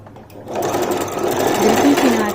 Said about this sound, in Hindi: तो अब इसको हम इस तरह सीधी तरफ से यहाँ सिलाई लगाएंगे ऊपर से।